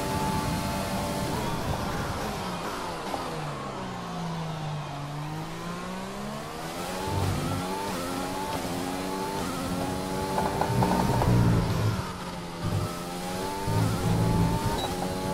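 An F1 race car engine in the F1 2020 video game howls at full throttle, its pitch rising and falling through gear changes and corners, loud and continuous for the whole stretch.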